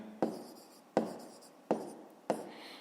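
Pen writing an answer by hand on paper for a fifth-grade math exercise, four distinct scratchy strokes at steady intervals, close and clear with no talk.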